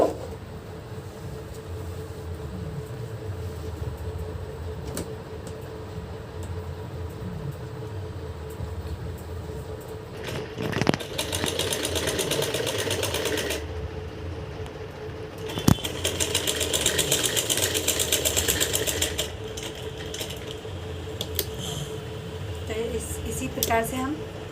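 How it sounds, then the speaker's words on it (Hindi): A sewing machine stitches a lehnga in two short running bursts, each lasting a few seconds, while a voice keeps talking over a low background hum. "तो सबसे पहले हम सिलाई डालेंगे।"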